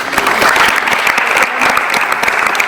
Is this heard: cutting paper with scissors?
no